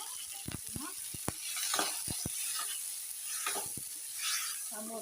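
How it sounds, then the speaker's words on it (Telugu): Tomatoes and onions frying in a pan for tomato chutney, giving a steady sizzle with scattered sharp pops and crackles throughout, fairly close and alone with no talk. "టమోటాలు అండ్ ఎర్రగడ్డలు వేస్తున్నాను దీంట్లో."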